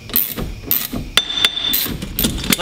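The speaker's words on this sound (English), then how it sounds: "give the spindle a little hit" A hammer strikes a wheel hub spindle to loosen a bearing, landing a quick series of sharp, close metallic blows with a brief ringing tone between hits.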